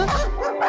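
A cartoon dog gives a short, close yappy bark followed by a brief whimpering yip.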